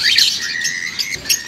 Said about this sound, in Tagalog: Daming ibon o.